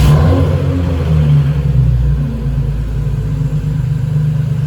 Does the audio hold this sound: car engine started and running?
yes